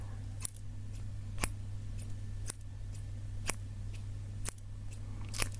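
Scissors snipping in a quiet setting, about six crisp, evenly spaced cuts roughly one second apart over a low steady hum, close and soft.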